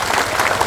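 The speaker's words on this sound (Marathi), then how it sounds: "टाळ्या वाजवा त्याच्या नावाने." An audience claps and cheers at an Independence Day gathering, dense and continuous with no pauses, carrying strongly for a short burst.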